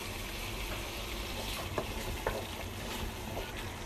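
Coconut milk goes into a pot of Indonesian-style chicken kalio with lemongrass and galangal and is stirred, giving a steady bubbling simmer with a few soft clinks and scrapes of the spoon against the pot.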